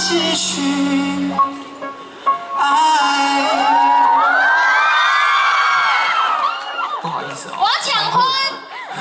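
A crowd of fans cheers, screams and whoops loudly and continuously at a concert signing event in Tainan, with high-pitched shrieking swelling through the middle and a voice briefly audible near the start.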